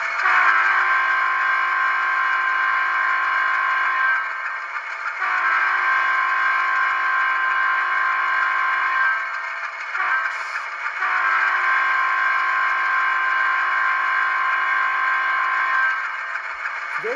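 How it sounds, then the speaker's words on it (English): An ATSF U25B model locomotive horn from Rapido DCC sound, blown in three long sustained blasts with short breaks between them, steady, loud and alone. "F2 is the horn."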